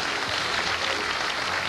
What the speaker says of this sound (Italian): un grosso applauso, Emanuele Tresoldi